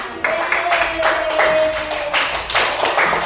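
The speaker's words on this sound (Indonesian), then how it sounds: "Kelompok 1 beri tepuk tangan." A classroom group of students claps on cue, several short bursts of uneven hand claps close by with a faint tone running underneath.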